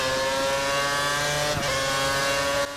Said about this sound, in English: The gear shifts sound very pronounced, don't they?